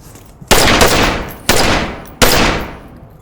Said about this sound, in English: Did you really just drop a grenade through that crack?